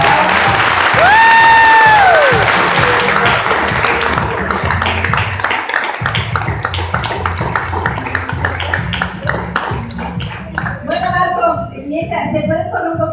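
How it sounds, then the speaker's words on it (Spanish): An audience at a Christian Mother's Day event claps for the mothers gathered at the front, steady applause continuing under loud speech and music from the start. "Son aplaudidas. Todas juntas."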